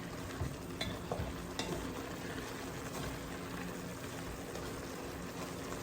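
Beef for pepper steak browning in a pan, a steady dense sizzle with occasional stirring scrapes, close and continuous with no talk.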